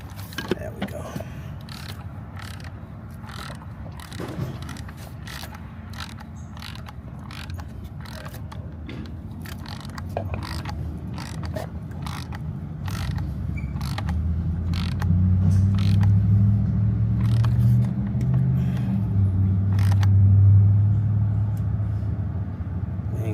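Ratchet clicks sound as bolts are tightened on the plastic oil filter housing of a 2013 Jeep Grand Cherokee, repeated quick clicks over a low engine-bay rumble that grows louder toward the end.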